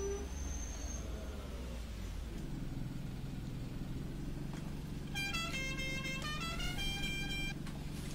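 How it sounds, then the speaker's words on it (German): Bus horn on a Pegasus MB19 in the OMSI 2 bus simulator game, set in the Ruhrgebiet, with several short honks in a row rising over a steady low engine rumble toward the end. "Der Hupe kannst du echt die Kollegen grüßen."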